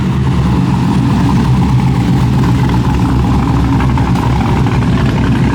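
Several cars, a fifth-generation Chevrolet Camaro and a Mercedes among them, roll up at a nighttime car meet, engines rumbling steadily and loudly with deep low idling and light revving throughout, close by.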